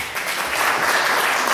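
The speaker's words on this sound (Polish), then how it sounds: "Tutaj również gromkie brawa." Audience applause at a EuroSong song festival concert: a steady, dense wash of clapping that holds evenly for the whole short stretch, with no voices over it.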